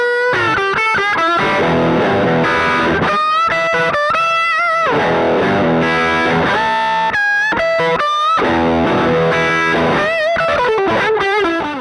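An overdriven electric guitar plays through a Neural DSP Cory Wong amp plugin, loud and gritty, with chopped chords and short melodic runs broken by brief gaps.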